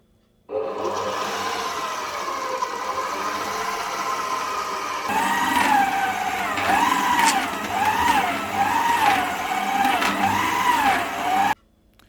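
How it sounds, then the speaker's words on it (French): A stand mixer kneads bao bun dough made with milk. Its motor gives a steady, loud whine, and after the speed goes up a rhythmic, wavering pulse appears as the dough turns. "Je pétris pendant 5 minutes à vitesse 1 et 3 minutes à vitesse 2."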